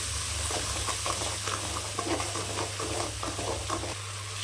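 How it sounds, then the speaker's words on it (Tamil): Ground spice paste for a yam (senai kilangu) gravy fries and sizzles in hot oil while being stirred, a steady close hiss with soft scraping strokes and a low hum beneath, no voices. "இந்த எண்ணெயிலே இந்த மாதிரி நல்லா ஃப்ரை பண்ணுங்க."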